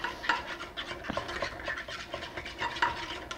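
A fork stirs soft eggs for a classic French omelette in a metal-utensil-safe omelette pan, making a steady, close scraping and rubbing with light metallic ticks throughout and no talking.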